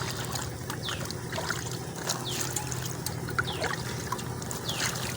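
Taro leaves being washed by hand in water outdoors, giving steady splashing and trickling with small drips throughout, fairly close, with faint birdsong in the background and no talk.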